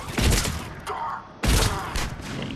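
Shotgun blasts from Mass Effect 3 multiplayer: two loud, booming shots about half a second apart, each with a heavy low thump and a short rumbling tail.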